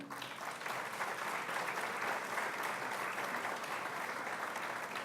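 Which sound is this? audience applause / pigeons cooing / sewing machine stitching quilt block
audience applause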